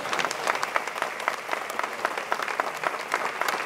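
An audience applauds at a Presidential Medal of Freedom ceremony for Chancellor Angela Merkel, with dense, sustained clapping from many hands at a steady, moderate level and no talk.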